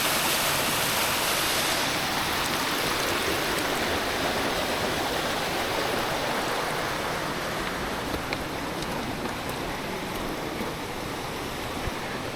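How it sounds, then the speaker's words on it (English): Rushing river water flows continuously as hikers cross a river in the Swiss Alps, a loud, steady broadband wash of current with no voices. "We're crossing the river."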